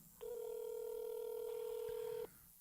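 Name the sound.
telephone ringing with nobody answering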